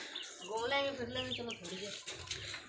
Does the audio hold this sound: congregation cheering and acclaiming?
no